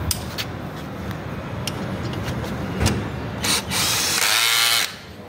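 A power drill tightens an M8 Allen bolt with a nylon lock nut while a rally tower is fitted to a Hero Xpulse 200 4V, whirring briefly in short bursts before one longer, louder run near the end.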